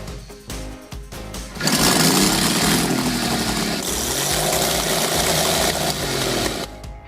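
A rotary-engine motorcycle chugs and revs loudly and steadily, a rough mechanical rhythm close by, preceded by a few sharp clanks and mechanical knocks.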